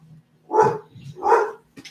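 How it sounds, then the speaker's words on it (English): A pet dog barks indoors: two loud, close barks about a second apart, followed by a brief softer yip, with a low hum in the background. "Why is she barking?"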